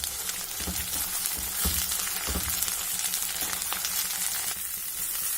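Ground doddapatre leaf paste sizzles in hot oil, a dense, continuous crackling fry with occasional soft stirring knocks, close and steady throughout.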